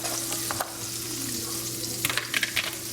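Minced garlic sizzles and fries steadily in hot oil in a pan, a dense crackling hiss close up with a few sharper pops and stirring clicks near the end.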